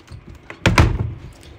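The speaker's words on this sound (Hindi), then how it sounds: "दरवाज़ा बंद करो" A door shut with a single solid thunk followed by a second knock-like impact, short and close, with faint shuffling before it.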